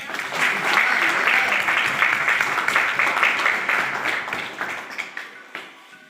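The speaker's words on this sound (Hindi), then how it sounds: "तालियां" An audience claps warmly at an agricultural science centre gathering as a guest is garlanded onstage, dense applause that holds steady, then thins into scattered claps and dies away.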